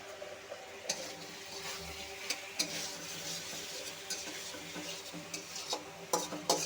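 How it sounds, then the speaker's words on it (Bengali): Spice masala for a hilsa fish curry being stirred and sautéed in a pan with a little added water, with soft scraping strokes, faint sizzling, and intermittent clinks of a spoon against the pot at a low, close level. "একটু জল দিয়ে দিচ্ছি মশলাটা কষানোর জন্য"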